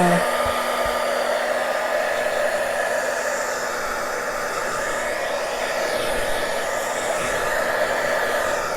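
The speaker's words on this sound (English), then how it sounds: "use my heat gun just to make sure it's dry" Heat gun blowing steadily over a crazy quilt Easter craft tag to dry it, a loud continuous airy whoosh with a faint motor hum, unbroken for the whole stretch with no talking.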